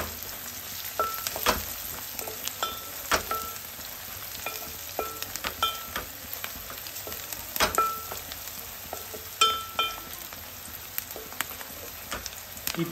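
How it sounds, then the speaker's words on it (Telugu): Gongura dried prawn curry with added turmeric is stirred in a pan, sizzling steadily with scraping spoon strokes and irregular clinks, close and fairly loud with no talking. "పసుపు వేసి ఒకసారి కలుపుకోండి"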